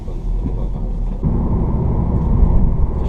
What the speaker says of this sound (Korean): 적당한 바람소리, 그리고 노면에서 올라오는 소음, 적당한 수준의 소음 들립니다